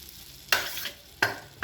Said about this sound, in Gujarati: બટર ઓગળી જાય એટલે આપણે જે પેલો માવો તૈયાર કરેલો એ બટરની અંદર નાખીશું.